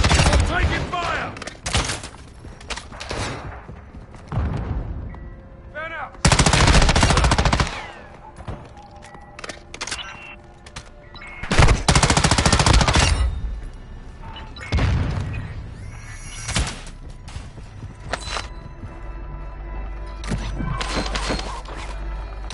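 Heavy automatic gunfire in a military shooting video game, with dense bursts and loud booming blasts in clusters, interspersed with radio-style voices and quieter stretches.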